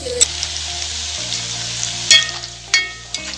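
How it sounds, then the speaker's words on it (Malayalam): Masala being sautéed in a pan for bucket grilled chicken, a loud steady sizzle with a few sharp spoon scrapes and clanks near the end, no speech. "ഈ മസാല ഒരു ബ്രൗൺ കളർ ആവണ വരെ നന്നായിട്ട് വഴറ്റിയിടുക"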